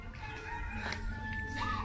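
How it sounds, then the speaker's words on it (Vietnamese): Chickens in a crowded backyard chicken coop cluck and call continuously, close and clear, with no one talking. "Chuồng gà, chú nói nuôi nhiều lên thì không không không có được nữa, nó đông quá."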